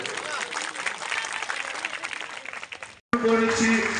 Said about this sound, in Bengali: একটু করতালি চাইবো।